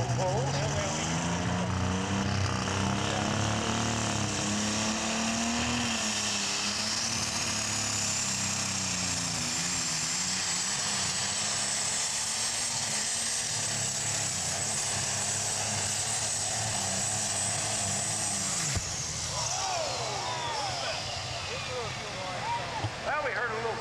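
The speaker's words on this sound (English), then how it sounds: "So as Frank makes his way on the Bambi tractor" A super stock pulling tractor roars through a full pull at an outdoor tractor pull event, its engine a loud, sustained drone with a high whine rising and holding before dropping away near the end, under a commentator's voice.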